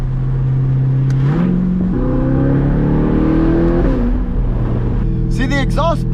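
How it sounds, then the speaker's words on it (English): A C8 Corvette with a titanium exhaust in Z mode revs and changes pitch up and down under steady road noise, then ends in a burst of crackling exhaust pops. "See, the exhaust pops a lot in Z mode"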